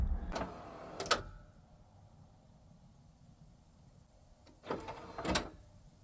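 Pop-up headlight covers on a 1986 Pontiac Firebird move in two short mechanical bursts a few seconds apart, each a brief motor whirr ending in a clunk, against a quiet background.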